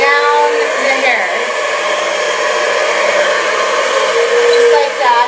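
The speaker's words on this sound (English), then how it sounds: "You want to point the nozzle of the blow dryer" A handheld blow dryer runs steadily and loudly at close range, a continuous whooshing airflow with a whining motor tone, its nozzle aimed down along the hair being smoothed.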